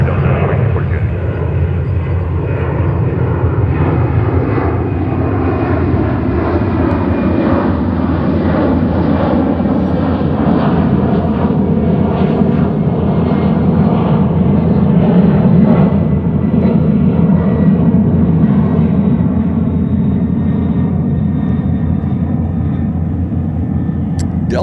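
Jet airliner engines of the CFM type roar at JFK airport, a loud, sustained, broadband rumble with a slowly shifting tone that continues throughout.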